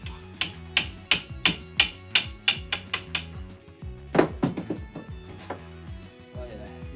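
A Tasmanian pattern axe head is driven down onto a Basque race handle with a rapid run of about a dozen sharp, ringing hammer blows, close and loud, with a faint tonal background underneath.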